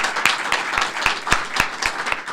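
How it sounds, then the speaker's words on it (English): Audience applause at a public night-out event and briefing for Austin Tice, with steady clapping from a crowd that rises and falls in a loose rhythm over a couple of seconds, fairly close, with no voices. "So we just give them one more round of applause."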